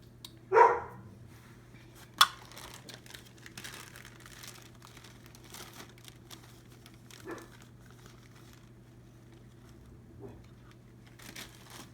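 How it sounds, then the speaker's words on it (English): A pet dog indoors, upset, lets out one sharp bark followed later by a second, brief and moderately loud, amid quiet kitchen rustling and faint handling noises. "our dog is upset about something"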